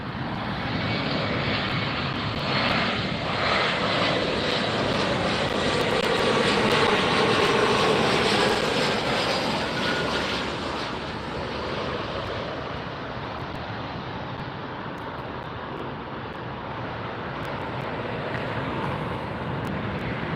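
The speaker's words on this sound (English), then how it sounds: "This is SkyWest United Flight 5579 coming in from Redding," A SkyWest United regional jet from Redding, California lands at LAX, its engines a steady broadband roar that swells to a peak midway through and then eases while staying loud and close, with no voices.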